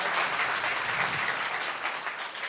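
An audience at a devotional kirtan claps together in a dense, continuous burst of applause, loud and close, with a faint voice barely present beneath it.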